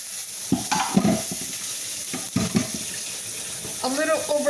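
Overcooked bacon crackles and sizzles in a pan with a steady hiss, joined by occasional stirring scrapes, while a person talks over it.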